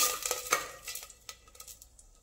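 A spoon stirs jeera rice with water, salt and coriander in a pot, giving soft, irregular scraping and sloshing taps, faint and close, with no speech.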